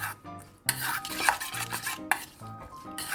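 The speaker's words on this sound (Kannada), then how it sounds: "ಹಾಕ್ಬಿಟ್ಟು ಇದನ್ನು ಚೆನ್ನಾಗಿ ಮಿಕ್ಸ್ ಮಾಡ್ಕೋಬೇಕು" A spoon stirs Maggi noodle ingredients with oil in a metal pan, giving rhythmic scraping and clinking strokes at close range, heard alone.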